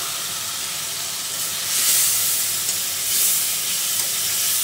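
Water splashed into a hot karai of frying tengra fish and taro gives a loud, steady hiss of steam that swells twice in strong bursts, close up and with no one talking.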